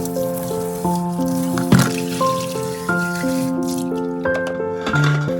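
A container is washed under running water in a home kitchen, with trickling and splashing beneath a steady tonal hum and a few sharper knocks.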